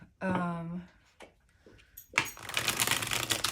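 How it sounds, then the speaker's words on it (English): Brief rustle of Art Nouveau tarot cards, a Lo Scarabeo deck, followed by a sustained burst of rapid, crisp card shuffling, close by, with a short voiced sound at the start. "Let me shuffle just a little"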